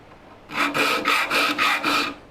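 Six rhythmic rasping strokes of a file sharpening the teeth of a hand saw, close and loud, each pass a bright scraping burst with short gaps between, no voices.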